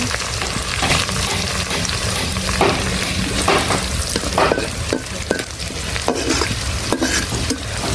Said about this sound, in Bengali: এখানে হচ্ছে পেঁয়াজ ভাজতেছি মাছ রান্না করার জন্য।